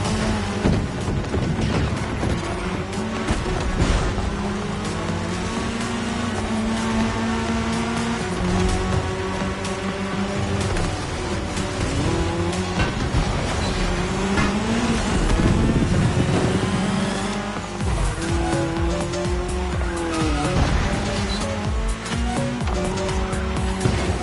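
Cars roar through a cross-terrain race in The Crew Motorfest, engines revving hard and tires squealing and skidding continuously for the whole stretch, loud and close with no talking.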